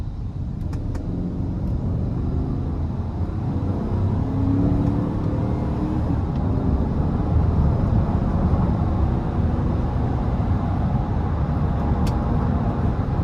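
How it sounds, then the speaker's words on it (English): A 2014 GMC Sierra 1500 SLT pickup with the 5.3 V8 accelerates under throttle, a steady loud low engine and road roar that holds constant throughout, heard from inside the cab with no talking. "Well, let's give it some throttle here."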